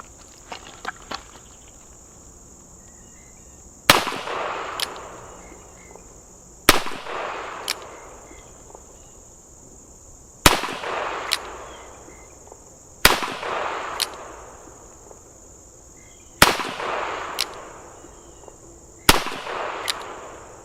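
Single-action shots from a Smith & Wesson 65-3 .357 Magnum revolver, six loud sharp reports spaced a few seconds apart outdoors, each with a rolling echo tail, insects buzzing steadily underneath.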